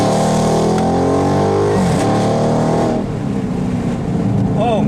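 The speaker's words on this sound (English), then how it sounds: "This glorious exhaust note." Dodge Charger Scat Pack with a 6.4 liter V8 roars loudly, its exhaust note climbing and falling through revs with a deep rumble, a voice speaking briefly over it.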